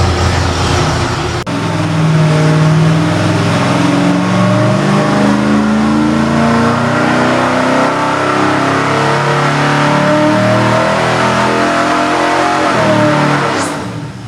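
Small-block Ford V8 with factory iron heads running on an engine dyno, a steady loud idle near 670 RPM with a lumpy, even exhaust pulse throughout, no voices.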